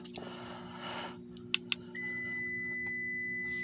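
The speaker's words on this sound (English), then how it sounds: "We hear the door, that this door is open. That's why it's beeping like that." A 2014 Toyota Camry SE chimes with its door-open warning: a few short, sharp beeps followed by a sustained electronic tone inside the parked car, with a low steady hum beneath and no talking.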